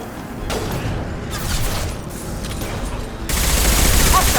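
Gunfire in Mass Effect Legendary Edition crackles in dense, sustained bursts, forming a loud, continuous volley that grows stronger near the end.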